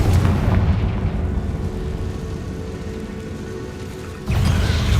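A Confringo spell blast in Hogwarts Legacy makes a heavy, rumbling explosion that swells and slowly decays over several seconds, then a second loud boom hits near the end.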